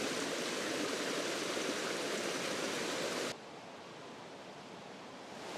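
A mountain trout stream in western North Carolina rushes with a steady broadband hiss, loud and close, then drops abruptly to a softer, duller flow as a slow, flat section of water, with no talk.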